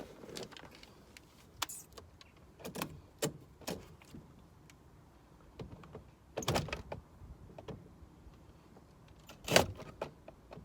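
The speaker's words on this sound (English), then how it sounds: "I'm opening the door." Car door handled during airbag removal, with a series of sharp clicks, clunks and latch knocks spaced irregularly against a quiet background, one louder thump near the end.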